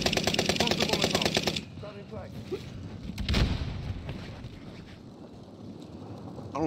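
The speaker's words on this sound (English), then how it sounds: "Under hostile fire." Rapid automatic gunfire roars in a dense burst from a Call of Duty Warzone Pacific match, then breaks off into softer scattered shots and ambient rumble.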